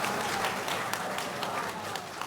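An audience claps after a Buddhist talk, a dense, even wash of many hands applauding throughout, moderately loud with no voices standing out.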